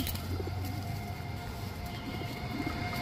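Pakistani Teddy pigeon chicks coo softly amid a dense, continuous background rumble and chatter from many birds nearby, with no clear speech.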